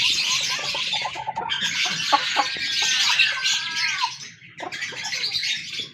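A hen clucks repeatedly in close, busy bursts, with some higher chirping mixed in, alone without any talking.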